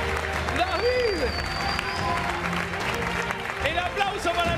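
Studio audience on an Argentine quiz show applauds a contestant, steady clapping mixed with crowd noise under a host's excited talk, with sliding musical tones and stings rising over it.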